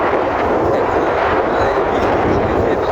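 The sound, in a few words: strong wind blowing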